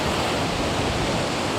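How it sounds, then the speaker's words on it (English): High-tide ocean waves smashing against a rock on the Sunshine Coast, heard as a dense, continuous roar of surf and spray, loud and close, with no voices. "High tide, heaps of waves, and one of my favourite rocks on the sunny coast. Beautiful rock, waves smashing on it."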